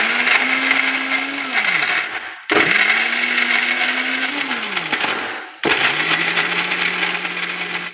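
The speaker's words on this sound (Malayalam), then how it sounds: "ഇനി ഇത് മിക്സിയിലിട്ട് ഒന്ന് പൊടിച്ചെടുക്കാം." A kitchen mixer grinder pulverises dried palm pieces into powder in three bursts, the motor whining loud and steady before spinning down between each pulse, with hard bits rattling inside the jar.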